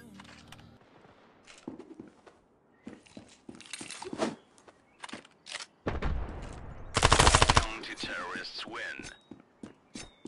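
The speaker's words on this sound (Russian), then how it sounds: "Я же стрелял по нему." Gunfire in an online shooter game duel, with scattered sharp shots and one long dense automatic burst near the middle, loud and close, mixed with game footsteps and a player talking quietly.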